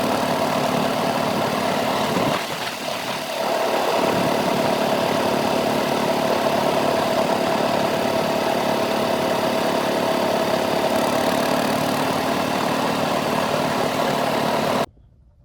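A 4x4 tractor engine runs steadily at a constant idle-like rumble, loud and continuous throughout with a brief dip partway, no talking heard.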